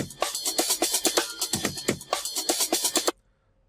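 A punchy sampled drum break loops busily with kicks, snares and crisp hi-hats for about three seconds, then cuts off abruptly into silence.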